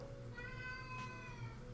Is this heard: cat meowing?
yes